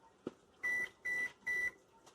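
A microwave oven timer beeps three times in an even rhythm, each beep a clear, steady electronic tone about a quarter second long, close and fairly loud in a quiet kitchen.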